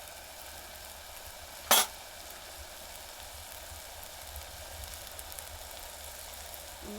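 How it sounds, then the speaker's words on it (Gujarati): Tamarind and jaggery go into a clay cooking pot over a steady, quiet sizzle, with one sharp clack partway through as something is added. "આપણે છે ને આમલી અને ગોળ નાખી દઈએ"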